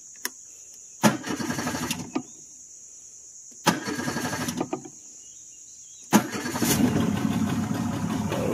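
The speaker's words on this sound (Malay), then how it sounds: "Panaskan enjin dalam 5 minit" A car engine is started three times. Each time the starter cranks sharply, the engine runs rough for about a second, and on the last try it catches and idles steadily, with a constant high whine underneath.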